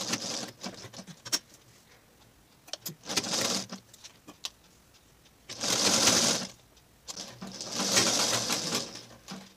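An electric sewing machine stitches a square neckline in several bursts of rapid whirring, separated by pauses and small clicks as the fabric is repositioned at the corners.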